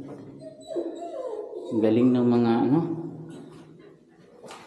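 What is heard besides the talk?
dog barking in a Japanese tunnel cave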